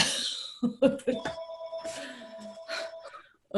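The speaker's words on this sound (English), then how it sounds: "now my phone's ringing here" A telephone bell rings indoors in a few close, bright bursts with sustained tonal lines, followed by a brief pause as speech and movement occur nearby.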